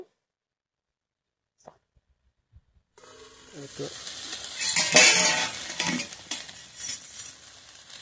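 Ivy gourd (kundru) is stirred in a frying pan after quiet, and a spoon scrapes and clatters against the pan over a steady sizzle that swells and then eases off.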